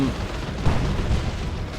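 Tanks blow up in a Warhammer 40,000: Dawn of War 2 battle between Tyranids and Orks, a deep, muffled rumbling boom rolling on steadily without distinct separate blasts.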